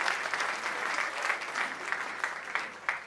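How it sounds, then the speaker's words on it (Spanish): Audience applause for the Nortevisión crew at a Christian music festival in Coquimbo, a steady sustained clapping from a crowd with a few sharper claps near the end. "un aplauso para ellos"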